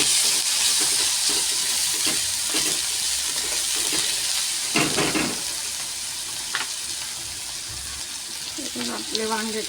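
Stuffed brinjals (eggplants) frying in a pan give off a loud, steady hiss and sizzle, with occasional stirring clinks and scrapes and a voice speaking near the end.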